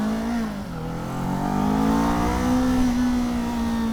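A 2023 Kawasaki Z400 motorcycle engine hums steadily while filtering through slow traffic, its pitch dipping then climbing and holding as the throttle opens, close and continuous with no speech.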